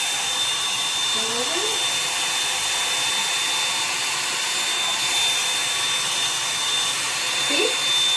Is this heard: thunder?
no